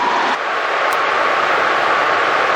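A helicopter on final approach, sidestepping toward a taxiway, produces a loud, steady engine and rotor roar throughout, with no voices.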